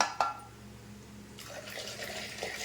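Water runs and pours in a soft trickle into batter for eggplant bajji, brief splashes near the start and a steadier stream toward the end, fairly quiet.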